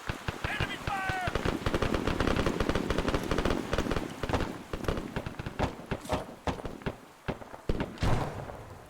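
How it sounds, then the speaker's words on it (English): Machine gun and rifle fire in the combat game ARMA 3, dense rapid bursts and scattered shots, some near and some distant, mixed with people talking. "Enemy fire!"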